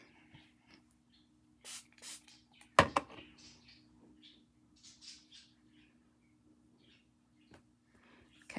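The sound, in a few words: spray bottle spritzing dye onto sari silk ribbons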